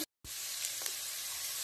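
Garlic and onion sauté in a pan with a loud, steady, hissing sizzle that starts after a brief moment of silence and continues without pause; no one speaks.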